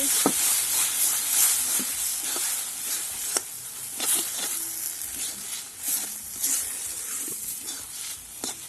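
Taro leaves (kochu shak) fry in a pan with a steady, bright sizzle and hiss, broken by occasional soft clacks of stirring, close and continuous, with no voices.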